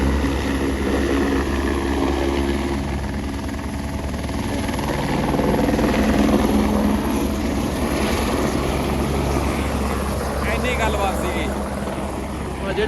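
A helicopter flies near Govindghat on the route up to Govind Dham, its rotor and engine roar loud and steady throughout the whole stretch.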